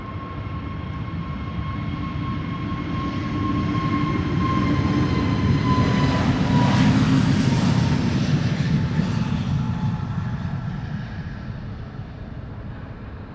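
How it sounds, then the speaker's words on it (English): A KLM Airbus A321neo climbs out of Amsterdam Schiphol for Lisbon, engine roar and whining tones building to a loud peak mid-pass as it goes overhead, then slowly fading, with no talking. "KLM A321neo to Lisbon next."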